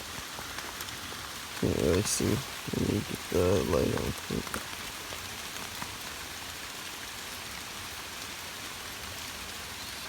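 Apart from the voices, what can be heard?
rain falling on a primitive shelter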